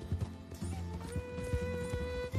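Hooves clip-clop in a quick, regular trot in Red Dead Redemption 2, close by, over a soft background hum and tones.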